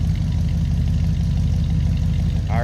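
A 1969 Mercury Marquis convertible with a 429 V8 idles with a loud, steady low rumble and a fast, even pulse, close up and uninterrupted.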